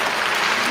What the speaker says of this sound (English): Where does the applause come from?